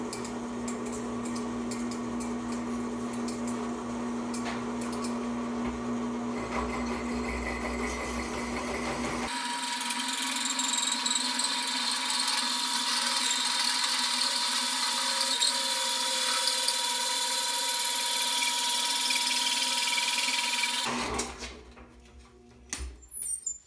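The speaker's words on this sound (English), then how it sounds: "Let's drill." A power drill whirs loudly and steadily for about ten seconds, rising from workshop background noise, then cuts off abruptly.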